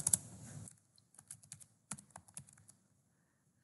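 Someone types a short line of text on a computer keyboard, with a burst of sound at the start followed by irregular, close, crisp key clicks in quick clusters and brief pauses.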